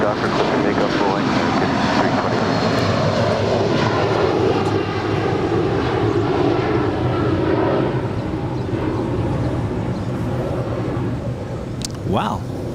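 An Airbus A320 takes off from Los Angeles airport with a loud, steady roar of jet engines that holds for a long stretch, close and dominant, with a faint chirp near the end.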